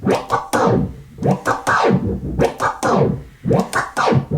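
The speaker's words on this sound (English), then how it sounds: "you briefly saw me doing the double-click flare orbit scratch" Rapid rhythmic two-click flare orbit scratches on a DJ turntable cut a record back and forth in quick chopped bursts, the pattern repeating steadily throughout.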